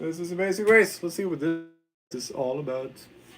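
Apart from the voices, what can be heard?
No everyday noise stands out behind the speech.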